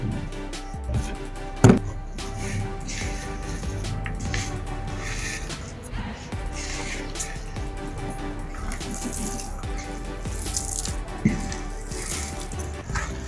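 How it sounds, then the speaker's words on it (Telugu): Water is poured into a plate of veg Manchurian batter and mixed by hand, giving wet squelching and sloshing with a few sharp knocks against the plate, close and steady, without speech. "ఇప్పుడు కొన్ని వాటర్ పోసుకుంటా కలపాలి మనం"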